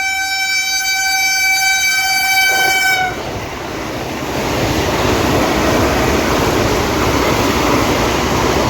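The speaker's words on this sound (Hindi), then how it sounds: "उसको ओवरटेक मारने आ रही है आगरा कैंट से चल के बनारस जाने वाली वंदे भारत एक्सप्रेस" Near a track on a Delhi to Saharsa route, a Vande Bharat Express sounds a long loud two-tone horn, then rushes past with a steady heavy roar of wheels and wind as it overtakes.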